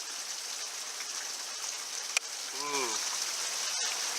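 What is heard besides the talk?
rain falling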